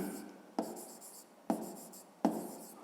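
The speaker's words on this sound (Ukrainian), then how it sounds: "Записуємо тоді." Handwriting during a fifth-grade math exercise: a steady, close scratching of strokes across paper, punctuated by three sharper taps at irregular intervals, with no talking.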